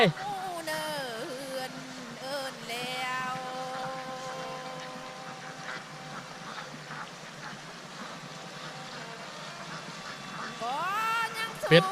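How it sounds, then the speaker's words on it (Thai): Ducks floating on a clear river by a rural village in Sam Neua, Houaphanh, give loud, nasal quacks in bursts at the beginning and again at the end, with quieter calls and a faint background hum between. "เป็ดลอยน้ำ"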